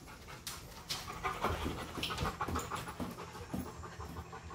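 Several English cream golden retrievers pant rapidly and close by after playing outside, a steady rhythmic huffing with occasional brief whines, no talking.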